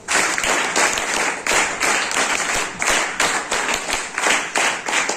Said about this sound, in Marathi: टाळ्या वाजवून यांचं स्वागत करूया.